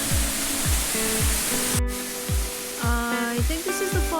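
A steady, dense rush of water from a waterfall near the Elakala Trail in West Virginia fills the scene without pause, with faint rhythmic low thumps and tones underneath.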